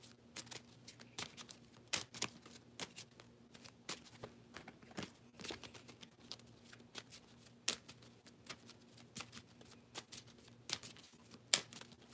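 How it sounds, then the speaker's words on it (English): A tarot card deck being shuffled by hand: a steady run of crisp riffling and flicking card sounds, close and fairly quiet, with no talking. "I'm gonna shuffle for you"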